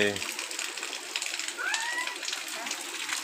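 Rainwater flows through a village after a morning of rain, a steady broadband rush that holds at an even level throughout, with a brief whistling tone partway through.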